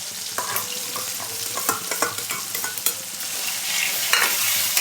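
Dal is tossed into a pan of frying tomatoes and fresh onion greens, sizzling steadily while a spoon stirs and scrapes with repeated clicks, loud and close, with no speech.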